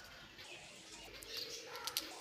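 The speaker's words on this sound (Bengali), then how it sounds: "দেখুন পাখিগুলো কত সুন্দর করে আমার সামনে এসে পাতা খেয়ে যাচ্ছে।" Birds feeding on leaves nearby give faint, scattered chirps and a soft coo over quiet outdoor ambience, with no speech.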